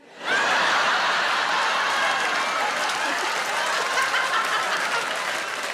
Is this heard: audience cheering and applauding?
yes